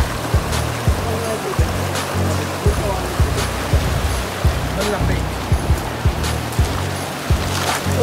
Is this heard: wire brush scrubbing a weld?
no